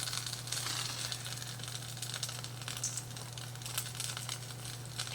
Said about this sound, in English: I'm going to let this sit here and simmer for a few minutes.